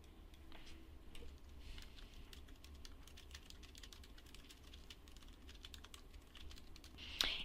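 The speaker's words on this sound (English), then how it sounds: "In the description box, we'll type our directions." Soft, rapid keystrokes on a computer keyboard tap in an irregular stream, close but quiet, with a slightly sharper click near the end.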